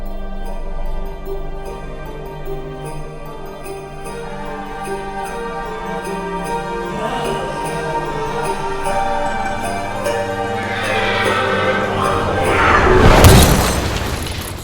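A Santa sleigh crash site event in the DayZ Christmas event, a long, loud rumbling boom that swells and builds, carrying like a distant explosion and peaking in a burst of crashing noise near the end, with no speech.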